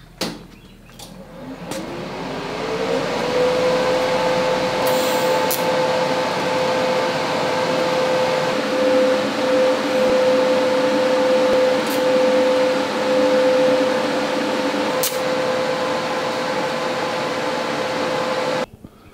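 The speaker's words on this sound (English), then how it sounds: "Now we're at the point where we can freaking weld this thing" Welding on a WeldTables Certiflat 3'x4' Pro steel welding table: a steady, loud hissing buzz that continues without a break for most of the clip, with a few sharp clicks and a tonal hum underneath.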